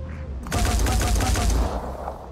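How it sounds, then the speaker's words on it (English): Rifle gunfire in the game Phoenix Point, a rapid burst of shots lasting about a second, loud and close, then fading into ambient game sound. "Let's try the rifle instead."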